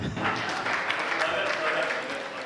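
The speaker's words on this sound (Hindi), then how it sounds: "तालियां एक बार पुनः बजा दें।" Applause from an audience at a Hindi comic poetry gathering, a dense steady wash of many hands clapping throughout without pause.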